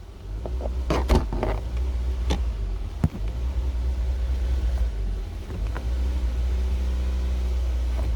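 A faulty car engine idles with a low, steady rumble while the accelerator is pressed fully but the revs stay flat, with a few clicks and knocks near the start.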